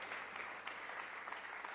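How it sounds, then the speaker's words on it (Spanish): Faint, even clapping rises from a congregation at an afternoon church service, giving applause to the Lord in a soft, continuous patter with no voices over it. "Dale un fuerte aplauso al Señor en esta tarde."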